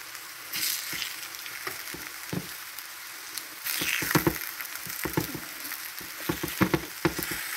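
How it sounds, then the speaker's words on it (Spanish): Plantains frying in hot oil in a pan, a steady bubbling sizzle broken by irregular crackling pops and occasional utensil stirs, close and fairly loud with no talk. "Vamos a dejar que se fríen un poquito más."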